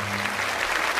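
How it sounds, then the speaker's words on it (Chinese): A studio audience on a food show applauds Chef Guo Ke with steady, dense clapping that fills the whole brief moment, with no talking over it. "我们再次把掌声送给我们郭客郭大厨"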